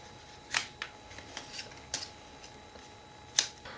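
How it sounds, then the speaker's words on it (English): Scissors snipping paper letters out one at a time for handmade tags, three sharp, fairly loud snips spaced apart with softer rustling and handling of the paper between them in a quiet room. "what I'm thinking about doing is cutting out the letters individually"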